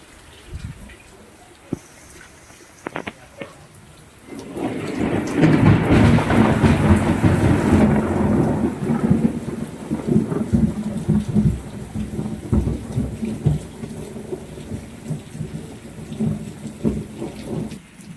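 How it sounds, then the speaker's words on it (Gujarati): A deep rumble of thunder rolls in over steady heavy rainfall in a Gujarati village, which keeps pattering loudly after the thunder fades. "અટાણે વરસાદ ગાજે વીજળીની બહુ જોરદાર થાય વરસાદ ચાલુ થઈ ગયો"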